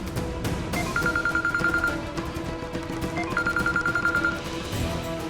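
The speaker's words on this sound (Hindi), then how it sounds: "ले, मेरा ही फोन बज रहा है।" A mobile phone rings late at night in a television drama, a repeating electronic ring in two bursts over music and scene noise, fairly loud and near.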